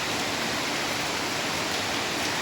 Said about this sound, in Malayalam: മഴ വീണ്ടും തുടർന്നുകൊണ്ടിരിക്കുകയാണ്